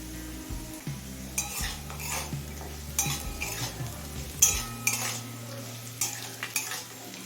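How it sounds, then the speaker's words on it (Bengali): Whole garam masala frying with carrots, cashews, raisins and beans in a pan, a low sizzle under repeated scraping stirs and clinks of a metal spoon, with bursts of louder stirring throughout. "গরম মশলাটা দিয়ে মিনিট খানেক ভেজে নিলাম"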